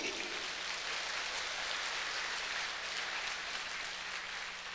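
A church congregation applauds steadily during a service, a faint, even wash of clapping lasting throughout.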